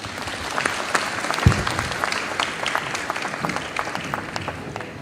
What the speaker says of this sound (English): a huge round of applause for our panelists, Rama Bijukar, V. Vaidyanathan, Nilesh Shah,